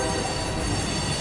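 A train at an old train depot in Old Town Spring near Houston, a loud, steady rumble and rattle of railcars with a faint high squeal, heard close with no talking.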